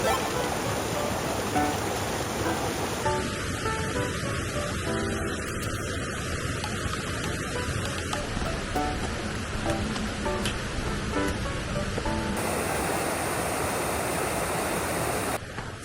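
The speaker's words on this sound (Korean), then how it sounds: "물소리 난다." A mountain stream in a snow-covered, freezing winter forest rushes steadily and loudly nearby, a dense continuous roar of flowing water throughout.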